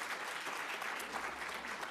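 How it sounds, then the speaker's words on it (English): A brief stretch of steady, fairly faint applause from an audience at a program relaunch event, continuous clapping with no pauses. "Let's give her one more round of applause."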